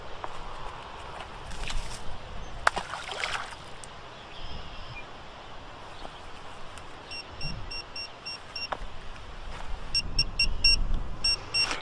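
Short electronic beeps from a portable fish finder marking fish sound in quick repeated bursts, faint against outdoor background noise and occasional knocks.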